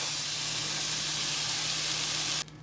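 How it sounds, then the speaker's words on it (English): Cooking spray butter hisses steadily onto food in a pan for over two seconds, a close, continuous broadband spray that cuts off abruptly at the end, with no talking. "Spray some spray butter on it. Spray some on the other side."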